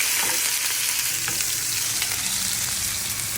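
Mustard seeds, onion, tomato and curry leaves sizzle and crackle steadily in hot oil for a tempering, a close, continuous frying hiss with faint stirring and no talk.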